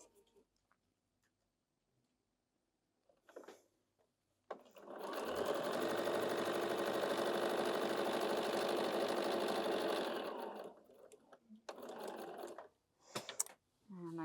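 Bernina 7 Series sewing machine stitching two lines through quilt blocks, a loud steady motor hum lasting about five seconds, preceded and followed by clicks and handling noise.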